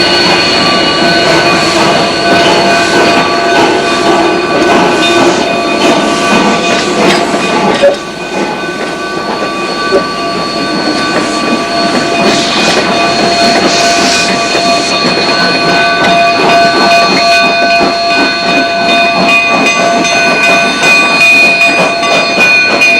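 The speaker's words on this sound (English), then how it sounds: "Motive power for the big push was provided by a pair of Baldwin K36 282s" Pair of Baldwin K36 2-8-2 steam locomotives working a narrow gauge mountain railway toward a 10,000-foot summit, loud sustained rumbling and clattering with whistle-like tones and squealing wheels, close and continuous throughout.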